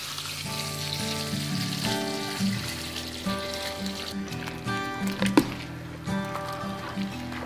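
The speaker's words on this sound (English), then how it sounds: "So now it's just a simple matter of pouring that over the vegetables." Salt brine being poured over chopped vegetables in two pots for sweet mustard pickles, a close, continuous wet splashing and trickling with soft clinks.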